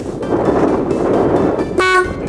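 A cheap 12V marine horn for a boat under 12 meters, bought on Amazon, blares loud and close as a continuous nasal tone, shifting to a brighter, more strained note near the end.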